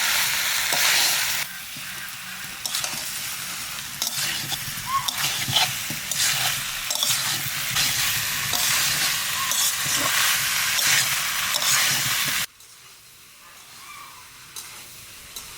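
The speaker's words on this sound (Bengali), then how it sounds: "আলু ইঁচড়টা একটু মশলার সাথে বাজিয়ে নিলাম" Young jackfruit and potato fry in oil with Kitchen King spice mix for a vegetarian curry, a loud close sizzle with stirring and scraping that drops suddenly to a quieter hiss near the end.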